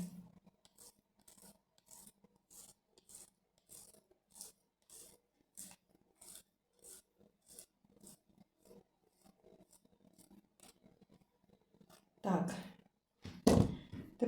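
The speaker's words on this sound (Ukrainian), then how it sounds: "Воно хоч і не замерзло, але воно добре натирається, можна натерти." A chilled ingredient for a single-layer homemade cake is rubbed over a grater in quick rhythmic rasping strokes, close and quiet, followed by louder handling noise and brief talk at the end.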